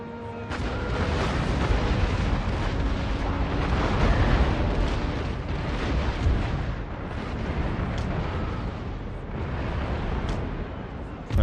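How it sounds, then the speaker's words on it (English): A warship's cannon broadside volley in Empire: Total War thunders as a dense, continuous roll of heavy booms and rumbling blasts, loud and sustained throughout with no pause. "we should be reloaded, so I'm going to send a volley into this fourth rate"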